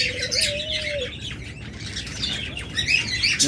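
Pet birds chirp and squawk close by, with one clear sustained whistle early on, then bursts of sharp, busy tweets.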